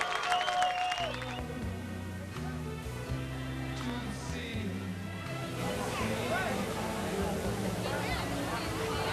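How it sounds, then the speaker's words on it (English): Applause from a sizable crowd at Beech Ridge Motor Speedway for a late model sportsman race winner, building in the second half beneath loud, steady background music. "Ladies and gentlemen, a nice round of applause for late model sportsman winner, Joe Bowser."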